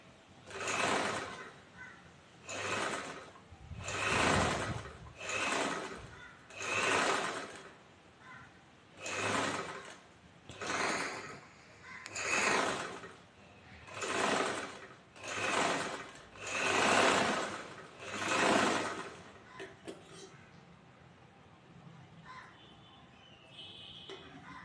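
A domestic sewing machine stitching a chudithar seam along the fold edge, running in about ten regular bursts of a few seconds each with short pauses between, fairly close and clear, then stopping with a few faint handling clicks.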